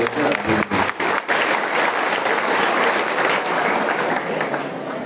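An audience at a public program in Kagal claps loudly and continuously; a few brief voice fragments at the start sit under the dense, steady applause.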